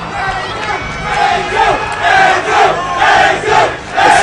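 A large esports crowd at the EVO 2013 Super Smash Bros. Melee quarterfinal roars continuously, swelling into repeated loud waves of cheering and chanting.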